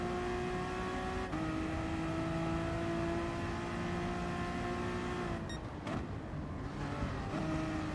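Race car engines roar steadily at Brands Hatch in Gran Turismo Sport, a sustained high-revving drone with shifting harmonic pitch and a brief dip near the end as gears change, loud and continuous with no talk.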